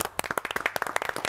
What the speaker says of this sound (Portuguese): Quem acha que a opinião do Cassino foi boa, bata palmas